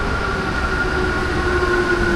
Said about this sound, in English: that train there that goes to IKEA goes to the north part of the city